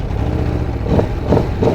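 A 2023 Aprilia Tuono V4 Factory motorcycle engine idles with a low, steady rumble, then rises in three short revving pulses, close and loud.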